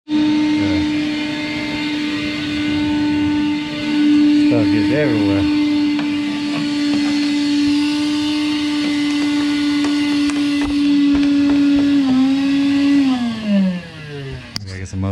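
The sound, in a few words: vacuum cleaner running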